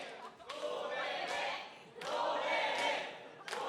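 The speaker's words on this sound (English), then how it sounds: "There's a cheer going on for him right now" A crowd at a StarCraft II national final match cheers for a player in three distant, swelling waves, each rising and fading over a second or so, fairly faint overall.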